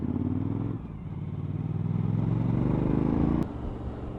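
A Suzuki V-Strom 1000 motorcycle engine with a new ECU drones steadily while riding in cold weather, its pitch changing with a gear shift, loud and close with rushing wind underneath.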